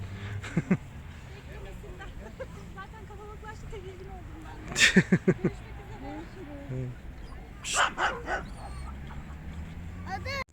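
A German Shepherd barks in short bursts, with yips and whimpers in between, fairly close, at a dog park, while a person talks over the sounds.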